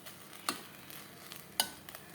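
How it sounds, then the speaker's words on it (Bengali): Fried rice is stirred in a pan on the stove, with sugar melting in. A faint, soft sizzle runs under two sharp utensil knocks against the pan and some lighter scraping. No one speaks. "এখন উনানে বসে একটু নাড়াচাড়া করবো"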